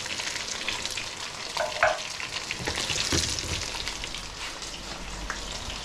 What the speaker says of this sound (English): Spaghetti is cooking nicely.